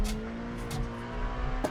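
GT3 race car in the iRacing sim, a steady engine drone with tire noise and a few sharp bursts, heard through the game's sound fairly quietly.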